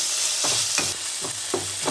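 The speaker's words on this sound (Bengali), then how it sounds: "এবার আমি কুচনো টমেটোটাকে দিয়ে দিলাম এর ভেতরে, দিয়ে আমি ভালো করে ভেজে নেব" Chopped tomatoes stir-fried in a pan with onion and garlic, a steady close sizzle broken by four or five rhythmic scraping strokes of a spatula, with no talking.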